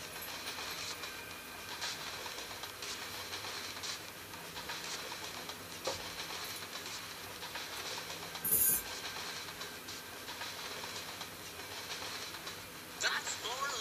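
A train runs along the rails, a steady rumbling roar of wheels and carriages that holds at the same level throughout, with a brief louder burst partway through.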